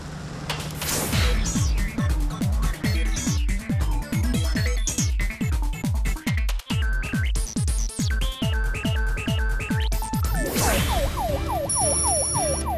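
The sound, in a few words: fire engine siren responding to house fire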